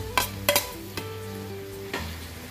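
Tomatoes frying in a pan with chili peppers for linarang, with a steady sizzle under repeated sharp scrapes and knocks of a utensil stirring against the pan.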